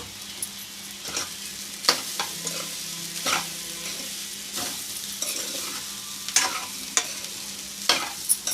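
Cooked rice with egg and carrot being stirred in a pan, with a soft, steady sizzle broken by repeated sharp scrapes and clinks of a spoon against the pan, close and fairly quiet.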